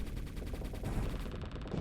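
Rapid bursts of ship-mounted gunfire in the space strategy game Starsector, a dense, steady rattle of many quick shots at moderate loudness, continuing without pause and with no voices.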